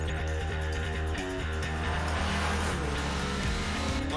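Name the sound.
car engine accelerating, tires squealing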